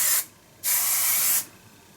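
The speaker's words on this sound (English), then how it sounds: "just going to give it a little spray" Two short bursts of hairspray hiss close by, the second longer than the first, with quiet pauses between.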